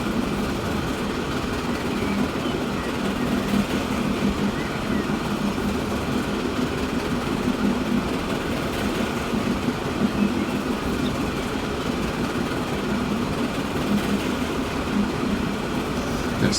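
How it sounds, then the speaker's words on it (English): Goods train running through a busy junction in the Transport Fever 2 game, a steady continuous rumble of wheels and engine held at even loudness throughout, with no pauses. "There's another goods train."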